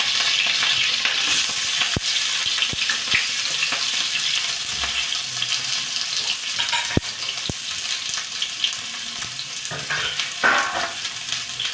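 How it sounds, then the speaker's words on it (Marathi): Chili and onion fry in a pan with cumin for a Marathi vegetable dish, a loud continuous sizzle dotted with sharp spoon knocks against the pan; no one talks. "मिरची घालून मिरची घातल्यावर आता कांदा घालून टाकायचा."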